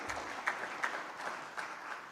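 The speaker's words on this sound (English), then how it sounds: "you applaud the university and its president for that" A memorial audience gives brief, soft applause, a steady patter of many hands clapping from some distance, with no talk over it.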